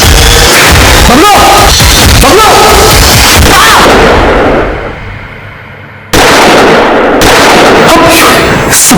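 Gunfire inside a building in a Hindi crime drama, loud dense bangs and cracks packed together with noisy echo, fading briefly midway before another loud burst continues.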